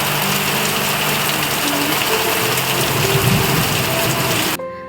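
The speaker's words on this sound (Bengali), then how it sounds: "আর এদিকে দেখো বৃষ্টির পরিমাণটা কতটা বেড়ে গেছে" Heavy rain pours down in a loud, dense roar with a low engine-like hum beneath, cutting off abruptly near the end.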